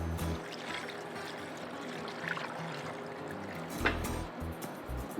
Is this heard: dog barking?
no